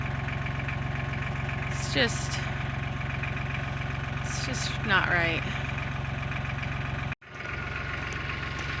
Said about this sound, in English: I got the tractor going behind me.